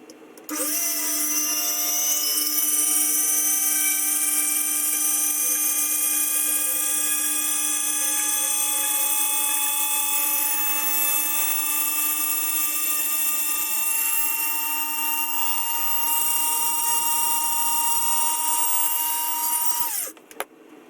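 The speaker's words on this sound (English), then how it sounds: "Now I just got to drill some holes here for the flashers and for the torpedo launchers" A high-pitched drill whines steadily for about twenty seconds while drilling holes in a plastic starship model, close and loud, then winds down and stops.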